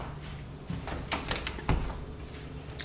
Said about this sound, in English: What's that door, Leah? You wanna go open it for me?